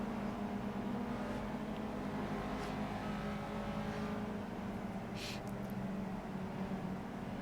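Ginetta G40 race car engine in the Project Cars video game at Sakitto International, a continuous droning engine note holding steady throughout with faint higher whines and a short rising tone near the middle.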